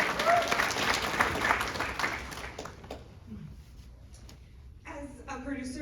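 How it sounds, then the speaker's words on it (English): At a film festival Q&A, an audience claps for Lucia, moderately close and fading within about three seconds, after which a voice starts talking. "Let's give Lucia a round of applause after this"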